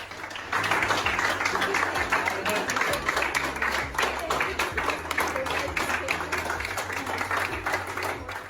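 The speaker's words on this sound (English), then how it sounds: "Doctors and nurses clapped her as she left hospital" Doctors and nurses applaud a recovered patient as she leaves hospital, a sustained patter of many hands clapping at moderate distance, continuing steadily with some voices mixed in.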